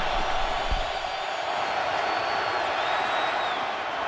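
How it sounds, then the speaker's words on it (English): Crowd noise swells steadily through a stadium at an NFL football game involving the Oakland Raiders, a dense, continuous wash of fans cheering that holds at the same level from start to finish with no break. "you hear the cheer"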